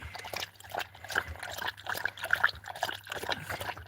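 A dog laps water after a run, giving quick wet splashing and slurping bursts in an uneven rhythm, close and moderately loud, with no talking.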